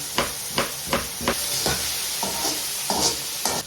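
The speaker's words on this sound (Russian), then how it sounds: "И жарим на большом огне. Пока мясо жарится, нарежу луковичку." Meat frying over high heat for a miner's soup with buckwheat and lentils, heard as a steady sizzle broken by a regular series of stirring scrapes, close and fairly loud, with no talking.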